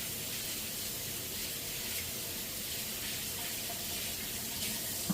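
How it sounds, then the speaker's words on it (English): Tap water runs steadily into a kitchen sink as hands are washed under it after handling raw pot roast meat, a constant close splashing hiss with no talking. "I need to wash my hands because I did it with both hands."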